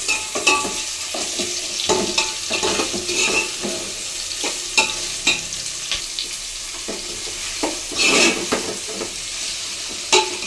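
Onions frying in a pan for a quick home-cooked meal sizzle steadily while a utensil stirs and scrapes them in repeated irregular strokes, close and clear, with no talking.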